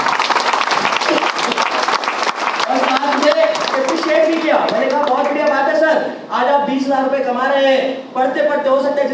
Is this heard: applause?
yes